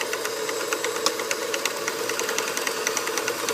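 A Kenmore Free Arm Multi-stitch sewing machine, Model 158.1941, stitches through eight layers of fabric with a fast, even mechanical clatter of needle strokes, steady and close.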